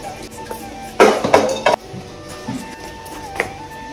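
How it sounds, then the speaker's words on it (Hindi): Pots, plates and utensils clatter while dishes are washed at home, a burst of loud clinks and knocks in the middle followed by a few lighter taps, with no talking. "अभी बर्तन धोना पड़ेगा, तो बर्तन धोते हैं गाइस"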